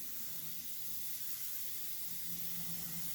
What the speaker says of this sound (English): we got one more spray to go